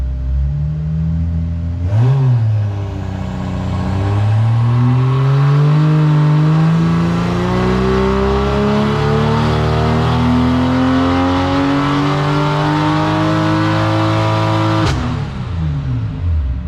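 A Toyota Supra Mk IV engine revs on a dyno, climbing in a long, loud, steady sweep from idle to high RPM after a brief blip, then cutting off sharply, heard up close.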